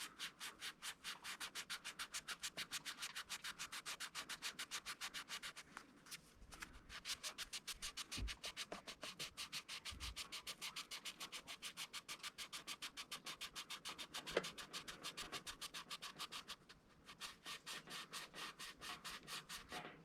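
A guitar neck being sanded by hand with 1200-grit paper, a quiet, rapid back-and-forth rubbing that repeats in an even rhythm, pausing briefly now and then.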